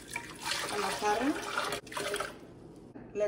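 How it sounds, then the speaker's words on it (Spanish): Water is poured into a jug, a steady splashing stream that cuts off after a couple of seconds, close by, with a voice speaking over it. "Voy a agregarle agua a la jarra."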